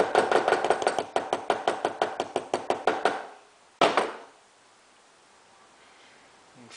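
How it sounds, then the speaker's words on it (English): A hammer peens a straight razor pivot pin against a stainless washer in a rapid series of about twenty sharp, close metallic taps. A pause follows, then one last strike, then quiet. "Grab my stainless washer, and then peen one side."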